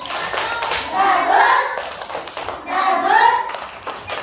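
Children in a classroom clap together in rhythmic bursts while young voices chant along, close and lively, in two rounds.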